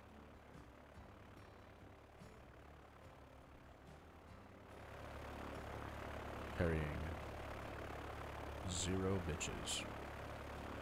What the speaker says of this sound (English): Mr. Propeller plane over here.